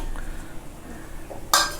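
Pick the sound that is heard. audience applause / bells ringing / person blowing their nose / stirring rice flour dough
stirring rice flour dough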